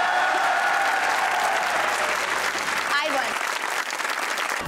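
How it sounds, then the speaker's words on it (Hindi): Studio audience applause on a Pakistani comedy talk show, a steady dense wash of clapping filling the whole stretch, loud and close, with a voice briefly audible over it near the end. "प्लीज मेरे लिए तालियां बजा दें।"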